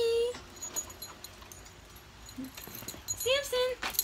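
Puppies whimper and yip in short high whines on a rainy day, heard at the start and again near the end, with a person talking to them in between.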